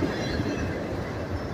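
Close, continuous rumble of a long freight train rolling past, steady heavy wheel noise with faint squealing and no voices.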